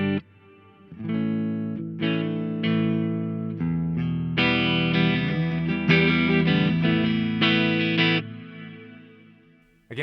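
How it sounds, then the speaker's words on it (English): Reverse reverb guitar effect from a Mooer GE300 Lite multi-effects unit: sustained guitar chords with washes of swelling reverb building into a loud, dense shimmer, then fading out near the end, with no talking. "there is a reverse reverb in here"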